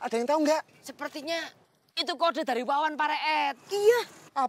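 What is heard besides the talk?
No everyday noises stand out.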